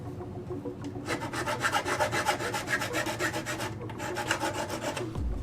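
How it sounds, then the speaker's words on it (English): A metal file rasps steadily around the edge of a hole in a New Bright 1/10 scale hard plastic body for a 2021 Ford Bronco RC car, close and continuous with even back-and-forth strokes and a brief pause near the end. "you're going to need to take your file set and you need to work your way all the way around and open up that hole"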